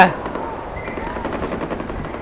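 Rapid gunfire in the video game Far Cry 4 rattles on continuously in the background, dense and even, with a steady mechanical texture throughout.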